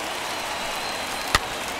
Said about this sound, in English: And he fouls this one off.